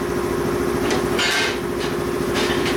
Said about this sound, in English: So we're gonna blast the hell out of this thing down in here.